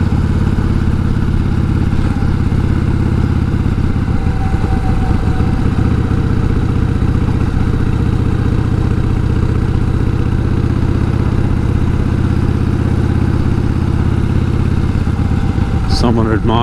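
A 1988 Harley-Davidson Heritage Softail with a sidecar rumbles along a country road on a Sunday ride, a loud, steady low engine drone with wind roar throughout.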